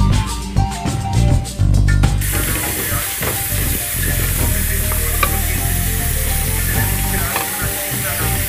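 Chicken for a chickpea dish fries loudly in a pan, a dense steady sizzle with bursts of hiss and stirring clatter, close and continuous.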